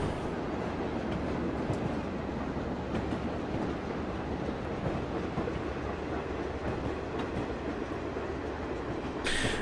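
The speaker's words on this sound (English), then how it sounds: "Train's rattling along." A CSX Dash 8-40CW diesel locomotive hauls a long freight train over the Marias Pass in Train Simulator 2015, giving a steady loud rumble with rhythmic wheel rattle and clickety-clack on the rails throughout.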